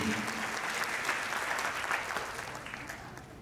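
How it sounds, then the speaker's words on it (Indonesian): An audience at a FOT 2024 talk claps for the eldest children in the crowd, giving dense, steady applause that fills the room and slowly fades toward the end. "Tepuk tangan dulu buat anak-anak sulung."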